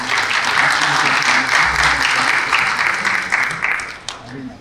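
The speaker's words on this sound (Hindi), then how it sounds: "तो इनके लिए भरपूर तालियां हो जाएं." A seminar audience at a freelancing event applauds loudly and steadily for about four seconds, dense clapping that fades out near the end, with some voices mixed in.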